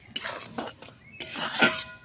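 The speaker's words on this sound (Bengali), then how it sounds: "আটা ভাজছি" Rice flour being dry-fried in a pan for sugar halwa, with a spatula scraping and clinking against the metal in two close bursts separated by a brief pause.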